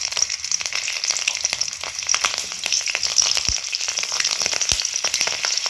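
Six slit green chilies frying in hot oil with bay leaf and nigella seeds, a bright, continuous crackling sizzle with a few sharp pops, fairly loud and close, with no voices.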